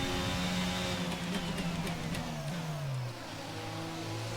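An F1 car in the racing game F1 22 accelerates, its engine whining upward in pitch then dropping with a gear change and climbing again, a steady mid-loud onboard drone with no talk.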